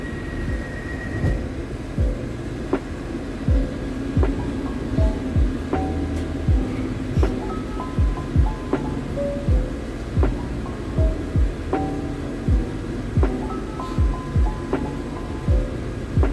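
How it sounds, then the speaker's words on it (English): Steady low rumble and hum inside a moving train bound for the airport in Gdańsk, Poland, with repeated rhythmic thumps of wheels over rail joints and faint higher squeals, continuous and close with no talk. "Train"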